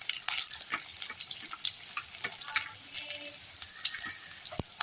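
Steady sizzling and crackling of onions frying in a pan, with occasional clinks and stirring noises close by.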